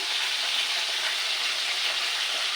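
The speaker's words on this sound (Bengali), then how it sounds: "তো মাছগুলো তাহলে আমি ভাজি করে নেই" Constant, even sizzling of fish frying in hot oil, a dense crackling hiss that holds steady throughout.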